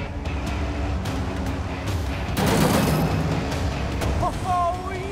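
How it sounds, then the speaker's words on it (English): Triple rockets fire in the Cars 3 video game, a sudden loud burst of blasts and crashing roughly midway, over a steady engine roar and game music. "Everybody better watch out for those triple rockets."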